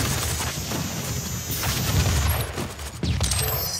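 A grenade explodes in the Doom video game during a multiplayer match, set within a dense, noisy stretch of gunfire and crashes. Sharp bursts stand out near the middle and end.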